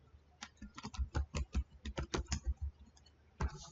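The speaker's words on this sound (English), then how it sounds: "let's just type in calculate" Keys tapped on a computer keyboard in a quick burst of clear, close clicks, a short pause, then a few more strokes, with no talking.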